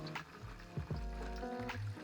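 Homemade grape wine poured steadily from one container into another without a siphon, a continuous gurgling liquid flow with a few soft glugs, close and quiet.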